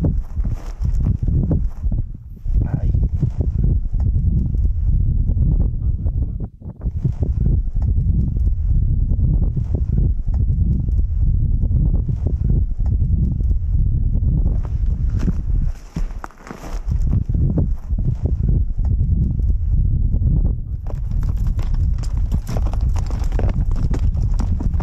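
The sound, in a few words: horse hooves clip-clopping on a mountain trail ride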